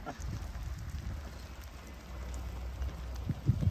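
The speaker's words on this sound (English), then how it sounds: "it rained a little bit while we were up there, but it is coming down good now" Steady rain comes down outdoors at an off-grid workshop in the woods, making a soft, continuous hiss with faint patters and a few closer drips toward the end, no voices.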